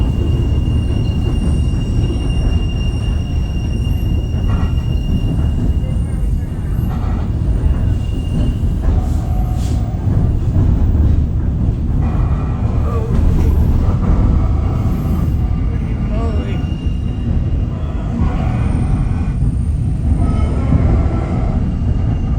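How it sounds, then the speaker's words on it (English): A train rumbles steadily along the rails in Skagway for a long stretch, with rattling, clanking and faint metallic squeals; a voice briefly exclaims once. "I don't like it when the train makes those noises"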